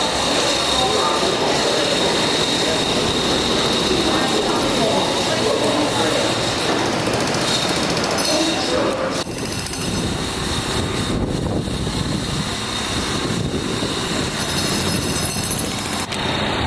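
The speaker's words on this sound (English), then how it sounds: "We are at Penn Station." Trains rumbling through Penn Station in New York, a steady loud roar of rail cars and wheels on the tracks under a constant din of station noise, with a shift in the rumble partway through.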